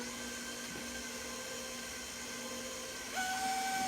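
An electric mixer beating lemon pound cake batter, a steady motor whine with sustained tones that shift pitch partway through and grow slightly louder near the end, close and alone.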